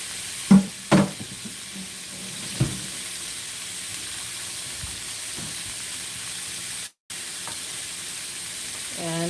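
Thinly sliced quick steak for Philly cheesesteak sizzling in a hot pan, a steady close frying hiss throughout with a few soft knocks and clatters near the start and a brief dropout midway.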